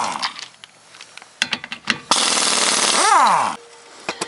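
Impact wrench removing 17mm lug nuts from a Jeep Renegade: scattered clicks and clanks, then a loud rattling burst of about a second and a half with a swooping whine as the nut spins free, followed by a few metallic knocks.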